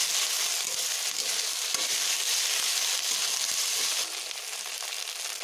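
Garlic and ginger paste with dried red chillies frying in a pan for a country chicken curry, a steady bright sizzle with scattered stirring clicks that drops slightly near the end.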